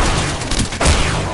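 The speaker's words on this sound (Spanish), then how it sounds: "Da un tiro el cabrón" Gunfire in a first-person shooter video game, a dense rapid volley of loud shots with booming low-end impacts, the bursts running throughout and peaking near the end.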